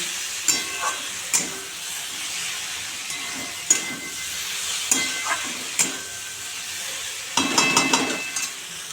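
Potato and cauliflower frying in a pan, with a steady sizzle throughout and about ten sharp scrapes and clatters of a spoon stirring the vegetables, the loudest bursts near the end.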